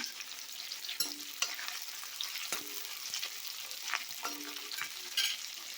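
Shallots and curry leaves fry in oil for a country chicken curry, a soft steady sizzle broken by sharp crackles and pops, heard close and with no talking.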